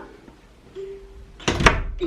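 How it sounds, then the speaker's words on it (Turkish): A door is slammed shut, a single loud, close thump that lands after a quiet stretch with a faint hum, followed by a brief rattle. "Çarpma kapıyı."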